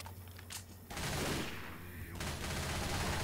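Bursts of gunfire from the Left 4 Dead 2 zombie shooter, played on Xbox One, sounding as dense, loud, continuous volleys with a brief lull before the shooting resumes.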